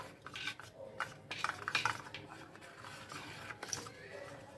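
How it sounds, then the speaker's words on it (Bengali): A spoon stirs thickening milk for nolen gur kulfi in a pot, giving soft irregular scrapes and taps against the metal, close and moderately quiet. "এখন এটা খুব ভালো করে নেড়ে রেখে দেবো।"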